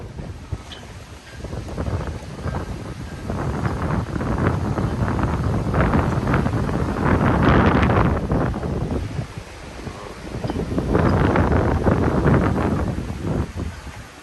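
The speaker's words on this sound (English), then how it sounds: "It's a little bit windy, so if you hear a lot of wind" Strong wind on a beach buffets the microphone in rolling gusts, a loud rushing roar that swells and eases for several seconds at a time.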